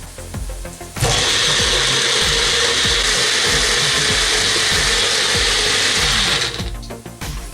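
A kitchen grinder whirs loudly through garlic, ginger paste, coriander paste and chilies mixed with broth, switching on abruptly and running steadily for several seconds before winding down.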